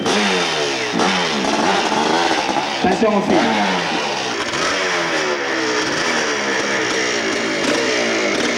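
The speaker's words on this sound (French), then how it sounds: "Présentation de la moto. Ouais, c'est un 500 normal." A 500cc motorcycle at a 1992 impossible hill-climb event in Arette revs hard and loud in rising and falling sweeps, the engine note climbing repeatedly and close by, while a person speaks briefly partway through.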